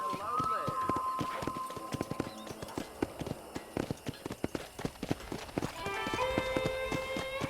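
Rhythmic hoofbeats clip-clop at a trot in Red Dead Redemption, close and steady, with a brief tonal chime and light background music-like tones; no voices.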